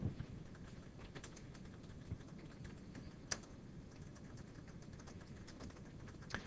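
Quiet, steady typing on a computer keyboard during a servlet/JSP programming lesson. Soft key clicks come in an irregular stream, with a few sharper taps standing out.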